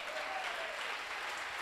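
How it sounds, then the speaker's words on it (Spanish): Sustained clapping from a church congregation at a Sunday service fills a short stretch, a thick uniform patter of many hands with a faint tone sitting underneath. "Un aplauso al Señor, hermano."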